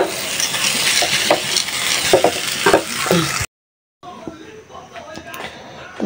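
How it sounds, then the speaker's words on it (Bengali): Food frying in oil in a home kitchen, with a steady loud sizzle and occasional stirring scrapes, then a short silence before a quieter stretch of sizzling and clatter. "তেলের মধ্যে ভেজে নিতেছি।"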